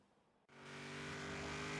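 A tuned Mitsubishi Evo 8 in Forza Horizon 3 pulls off onto the road after a brief quiet moment, its engine note rising into a steady, loud drone that keeps building with no voices over it.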